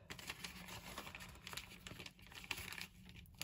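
A paper gusseted bag is folded by hand, giving soft, close crinkling and rustling with small crisp creases throughout, faint and without speech.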